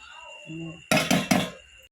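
Food scooped into a bowl while feeding stray street dogs: three quick, sharp clinks and scrapes close by after a quiet stretch with a faint steady tone and a soft voice.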